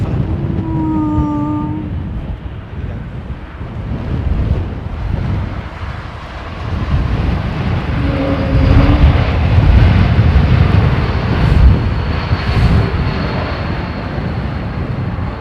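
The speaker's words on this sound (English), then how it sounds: "low pressure fan resonance, I think, is that sound that you're hearing there" Boeing 777 turbofan engines at London Heathrow, a broad, loud roar with a hollow tonal hum from low-pressure fan resonance, rising and swelling as the jet passes, with gusting wind noise.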